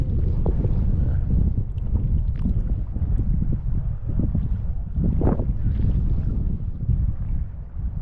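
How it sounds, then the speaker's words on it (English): Wind gusts buffet the microphone in a continuous low rumble, with a faint chop of water in the background. "It's a little bit windy."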